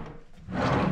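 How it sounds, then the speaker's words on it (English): A drawer sliding open or shut on slide drawer hardware in the kitchen of a refrigerated semi-trailer converted into a house, heard as one short, close rumble that swells in the second half. "There's drawers here, all on slide drawer hardware."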